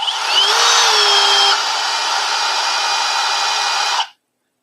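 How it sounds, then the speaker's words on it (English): An electric motor whines up to high speed, its pitch rising and holding for a moment before settling lower, running steadily and loud, then cutting off abruptly. "See how it just ramps up on high speed for that split, for those 2 split seconds, and then it just slows down."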